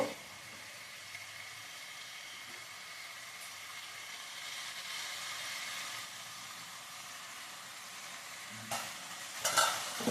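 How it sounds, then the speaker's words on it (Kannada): Tomato and onion fry for soya gravy in a pan with a soft, steady hiss, fairly quiet and even, with a few clatters near the end. "ಟೊಮೊಟೊ ಈರುಳ್ಳಿ ಎಲ್ಲನೂ ಆ ಥರ ಫ್ರೈ ಮಾಡ್ಕೊಬೇಕು"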